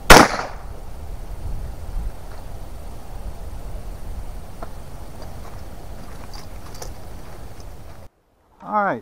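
A Yildiz TK12 single-shot 12 gauge shotgun fires outdoors, a sharp close blast at the start and another near the end, with quiet ambient noise between.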